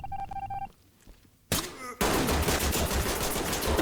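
Gunfire in the tactical shooter Ready or Not: after a quiet stretch with electronic beeps, a sharp burst erupts and gives way to loud, sustained rapid shots that continue to the end.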